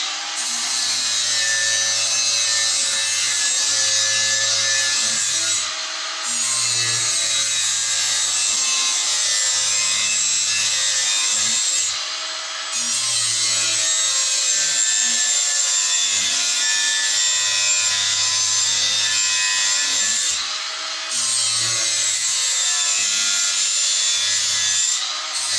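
A handmade spear head being sharpened with a power tool, a loud continuous grinding rasp in long passes broken by brief pauses.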